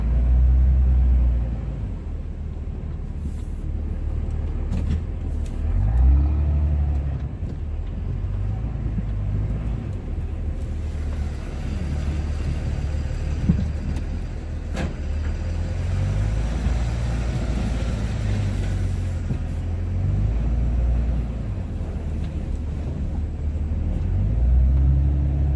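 A Dodge Ram Cummins pickup pushes a plow through heavy snow on new snow tires, its deep engine rumble steady and close with shifting tones as it works, and no voices.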